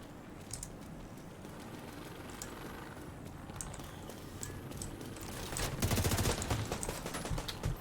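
Assault rifle fire in Division 2, with rapid automatic bursts crackling over a dense gunfight ambience and rising to a louder, sustained volley near the end.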